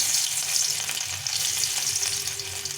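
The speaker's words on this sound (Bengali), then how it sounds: "তেলটা গরম হয়ে গেছে এখন রসুন কুচিটা দিয়ে দেবো" Chopped garlic frying in hot white oil in a pan, a close, steady hiss of sizzling with faint stirring scrapes and no voices.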